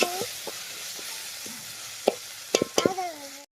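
Paneer and masala frying for paneer biryani, a steady close sizzle broken by several sharp scrapes and stirring clatters of a spoon against the pan, loudest toward the end.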